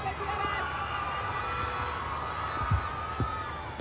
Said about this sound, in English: The crowd still believe. You can hear the cheers from them.